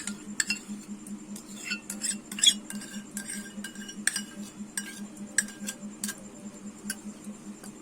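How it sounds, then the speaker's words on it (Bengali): Yogurt whisked in a bowl for a steamed palm-and-semolina cake, a rapid steady beating rhythm with small clinks of the utensil against the bowl, close and alone. "দইটা আমি ভালো করে ফেটিয়ে নেব"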